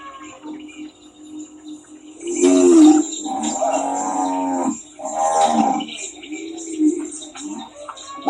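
Several cattle moo loudly and close by, in long drawn-out calls as the last cows are driven in on a small farm, with faint birdsong and insects in the background.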